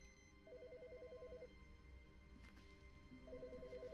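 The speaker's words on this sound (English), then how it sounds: "Figure out where that phone's ringing from." A telephone rings in The Stanley Parable, two bursts of trilling electronic ringing separated by a pause, faint and set against quiet ambient room tone.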